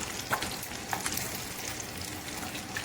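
Buffalo chicken wings deep-fry in hot oil, a close, steady bubbling sizzle with scattered small pops and crackles, fairly quiet and with no voices.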